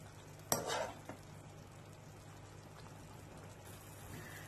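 Caramel from apple juice bubbles softly in a pan for an apple tart, with a sharp clatter of a utensil near the start followed by a faint, steady sizzle.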